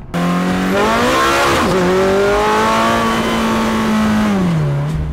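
A Ferrari F430 engine accelerating hard, loud and close, its rising wail broken by a quick gear change before climbing again and easing off at the end.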